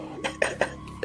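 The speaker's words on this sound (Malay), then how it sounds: "Batuk ni degil sangat ni." A person coughs in a few short, harsh bursts close by, spaced roughly evenly over about a second, with no talking.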